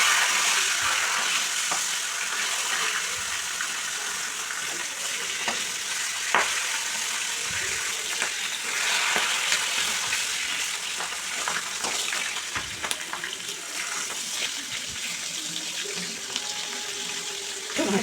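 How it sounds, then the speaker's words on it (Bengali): A catla fish head frying in a pan for moong dal, giving a steady, continuous sizzle and crackle with occasional clinks and stirring scrapes over a long stretch, and no talking. "মাছের মাথাটা ভালো করে ভেজে নিচ্ছি একটু লাল লাল করে।"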